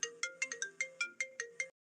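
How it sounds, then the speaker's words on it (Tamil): A phone ringtone plays a quick electronic melody of about nine bright, evenly spaced beeping notes, near and clear, with no one answering and no talk over it. "ஏன் ஃபோன் எடுக்க மாட்டேக்காவ?"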